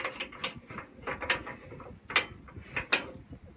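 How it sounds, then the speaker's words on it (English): Ratcheting mechanism clicks in short bursts as bolts are tightened on a bull bar bracket for a Ford F150, close and fairly loud with no talking. "All right, we're going to tighten it down, but we're not going to snug it up all the way"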